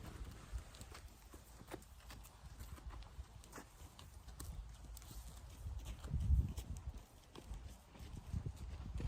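Horse walking on firm ground, its hooves clip-clopping in a slow, even rhythm at close range, with a heavier thud and shuffle partway through.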